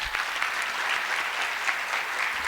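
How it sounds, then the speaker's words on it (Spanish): An audience at a congress closing ceremony applauds a student research group, a steady, dense wash of clapping from many hands, loud and continuous. "démosle un fuerte aplauso a mi grupo del semillero que se encuentra aquí"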